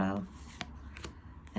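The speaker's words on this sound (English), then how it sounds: "now I just making a fool of myself by dropping the cards" Mini tarot cards drop and scatter in a quick papery flutter and slap, close by, with a voice speaking briefly at the start and end.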